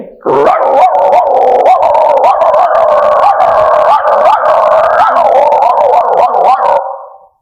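A voice imitates two dogs barking and snarling at each other in a fight, a continuous loud stream of rapid yips, barks and howl-like tones for about seven seconds, close and unbroken before stopping abruptly.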